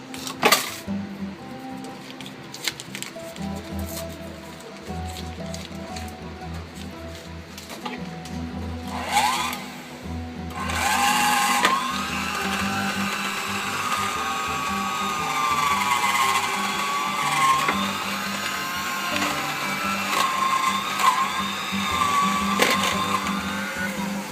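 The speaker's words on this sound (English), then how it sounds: "We're going to cream the stick of butter and the sugar together." Electric hand mixer creaming a stick of butter with sugar for cookie dough, a steady whirring motor hum that becomes louder and more labored partway through, with shifting pitch and rattling beaters.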